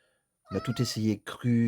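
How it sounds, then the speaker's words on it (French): A pet cat meows under a man's French speech, its calls mixed into the talk near the start and middle of the clip. "j'ai mon chat qui miaule"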